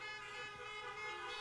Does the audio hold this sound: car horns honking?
yes